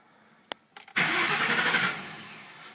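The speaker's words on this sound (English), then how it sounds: "getting ready to start it up just to show you what I'm kind of getting when I put it in drive" A 1997 Ford Thunderbird with a rough idle in gear starts up after a couple of clicks. The engine cranks and catches into a loud, close idle that settles down after about a second.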